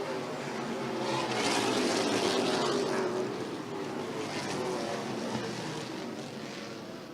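NASCAR Pinty's Series race cars, including the Mopar 27, roar past on the Autodrome Saint-Eustache oval, a sustained engine drone that swells and fades as the cars pass at moderate distance.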